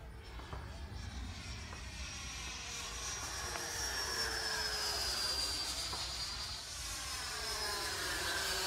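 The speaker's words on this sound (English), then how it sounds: "I'm just flying it at like half throttle now" An RC model jet flying at about half throttle, its steady turbine whine and rushing roar rising and falling in pitch as it passes overhead, with faint voices in the background.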